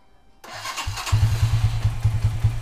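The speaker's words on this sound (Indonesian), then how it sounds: "sekarang coba nyalakan motornya" A 2010 Minerva R150 VX motorcycle with a PE28 carburetor cranks briefly, then fires and settles into a steady, close, rhythmic idle.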